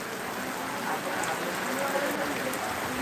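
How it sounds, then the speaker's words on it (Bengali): Heavy rain pours steadily over a street in the Shahapur bazaar area of Phulpur during a low-pressure spell, a dense, even hiss of drops on surfaces that continues unbroken. "প্রচুর বৃষ্টি হচ্ছে"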